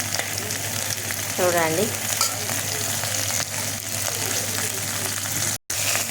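Okra pieces fry in a pan while being stirred, a close, dense sizzle running steadily, with a brief spoken word and a short squeaky sweep early on, then a momentary dropout near the end.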